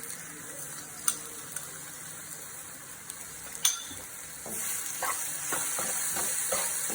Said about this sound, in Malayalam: ഇത് നന്നായി ഒന്ന് വഴറ്റിയെടുക്കുക